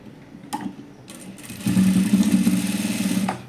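A sewing machine stitching a size 40 princess-cut blouse, a few short clicks and starts and then a loud, steady whirring run of stitches up close.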